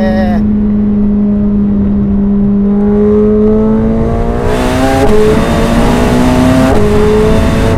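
A 2025 McLaren 750S engine holds a steady drone on a winding road, then revs up hard through two quick gear changes, its pitch rising each time, loud and close.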